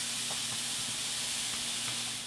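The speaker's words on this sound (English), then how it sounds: "take a half a cup of minced onion that I cut up before this video and add that into the pan and start to cook them" Minced onion cooks in a pan with a steady, close hiss of steam and sizzle, holding evenly throughout over a faint low hum.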